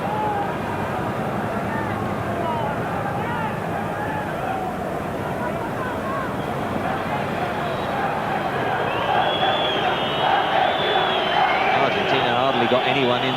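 A packed stadium crowd at the 1990 World Cup final between West Germany and Argentina roars steadily, with shrill whistling rising out of the din in the later seconds, under a commentator talking.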